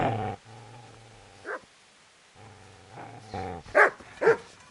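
A dog in a PS4 video game growls in low rumbling stretches, then breaks into a few sharp, loud barks near the end, fairly close and without talk.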